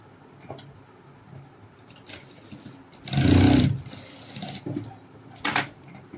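A sewing machine stitches the hem of a coat sleeve in one loud burst of about half a second, surrounded by quieter handling clicks and a second short run near the end.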